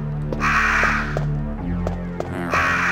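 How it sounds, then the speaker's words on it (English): Crows caw repeatedly in Resident Evil 1 Director's Cut, harsh spaced calls over a steady low droning hum, close and fairly loud with no talk. "I wonder why these crows aren't attacking me right now."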